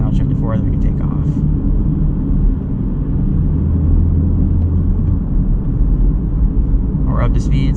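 Steady low engine rumble from a 2024 Honda Civic pulling away after a downshift to fourth gear, heard from inside the cabin with a person speaking over it.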